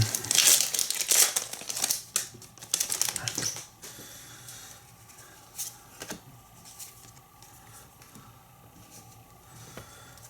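A Pokémon Chaos Rising booster pack wrapper crinkles loudly as it is torn open up close, a dense burst of rustling for the first few seconds, then quieter scattered handling and faint crackles.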